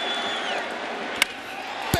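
Baseball stadium crowd at Yankee Stadium, Blue Jays versus Yankees, on its feet in the 9th inning: a steady, moderately distant roar of cheering with whistles and a couple of sharp claps or whoops.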